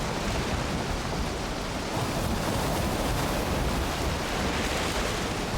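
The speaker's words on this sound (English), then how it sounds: "there's a storm" A stormy sea in the Valheim video game: loud, steady roaring wind and crashing waves fill the whole stretch as continuous broadband noise, with no voices.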